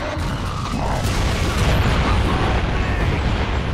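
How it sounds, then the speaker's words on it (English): Mortar explosions in the Gears of War 2 video game, a dense, loud wash of blasts and rumbling debris that persists throughout without clear gaps. "Incoming! Where are the mortars?"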